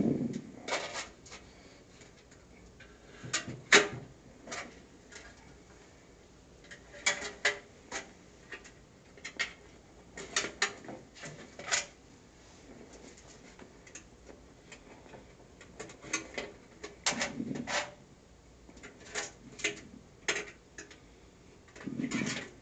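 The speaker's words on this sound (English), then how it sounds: "you're just going to slide the clips over the edge of the bowl to pin the netting to the" Metal clips slid one after another over the rim of a cotton candy machine bowl to pin its netting, giving scattered light clicks and ticks, close and fairly quiet, with no talk.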